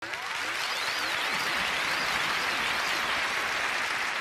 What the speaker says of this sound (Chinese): 热烈的掌声送给下一位老板。